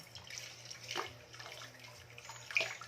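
Water runs from a tap with soft splashing and clinking as dishes are washed, faint and continuous with a few louder splashes.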